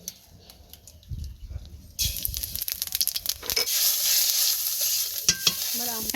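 Five-spice seeds hit hot mustard oil and burst into a loud, crackling sizzle after a few quiet scrapes and taps. Sharp popping and stirring follow, close and continuous.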